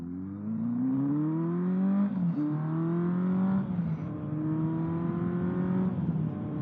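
A 47-year-old 1977 Kawasaki KZ650 motorcycle being ridden gives a steady, close engine drone that rises and falls in pitch as it shifts through gears, with wind rumble underneath.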